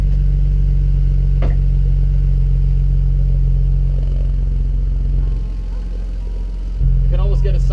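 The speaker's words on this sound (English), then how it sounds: "Give it some throttle." A BMW E36 fitted with a JDM blast pipe exhaust drones loudly and close at a steady, cold idle, with the engine tone shifting and dipping briefly as the throttle is blipped; a voice speaks briefly near the end.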